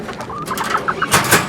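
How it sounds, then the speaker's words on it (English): Pet bantam birds call from close by, with several short cooing and clucking bursts. The calls build toward the end and rise over a steady background hum. "Got some really nice birds as well"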